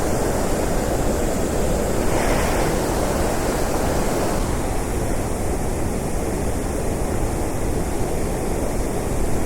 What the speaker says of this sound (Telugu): ఎక్సలెంట్ వాటర్ ఫాల్స్ మాత్రం